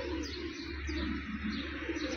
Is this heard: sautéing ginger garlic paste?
no